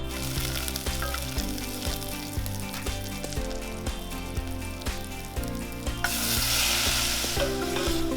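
Garlic frying in olive oil sizzles close by while a utensil stirs and scrapes the pan in repeated taps and clicks, and the hiss grows louder and fuller near the end.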